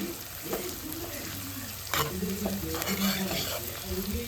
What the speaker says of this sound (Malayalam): നമുക്ക് ഇതൊന്ന് നന്നായിട്ടൊന്ന് വാടുന്നത് വരെ ഇളക്കി കൊടുക്കാവേ